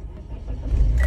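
An automatic car is started with its key in park: the engine cranks and catches, and its low rumble swells over the last half second, close by with no talking.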